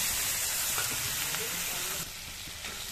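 Hot oil in a pan, with fried chilli and a mustard-poppy-onion paste for a rohu fish curry, gives a dense, loud, continuous sizzle that eases slightly partway through.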